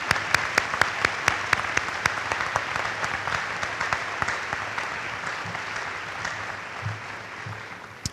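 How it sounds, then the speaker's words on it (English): An audience at a high school Veterans Day ceremony applauds steadily for several seconds, with dense clapping filling a large room and a few sharp claps standing out near the start. "Let's give them a round of applause."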